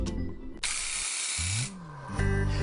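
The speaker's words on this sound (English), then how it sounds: "Spraying with a worn tip will result in a poor spray pattern." A Graco ProShoot handheld paint sprayer hisses in a steady broadband spray for about a second, with motor hum before and after and a brief shift in pitch as the trigger releases.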